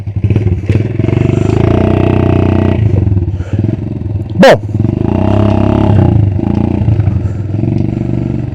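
A 50cc moped engine runs in low gear while riding downhill, a loud, close, steady buzzing drone with a brief louder rev near the middle and a short spoken word at the start.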